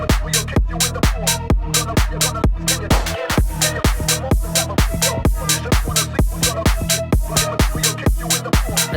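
Punchy bass house track opening: rhythmic plucks and deep bass hits pulse in a tight, even groove, loud and upfront, with a sharp gunshot sample cracking through about a third of the way in.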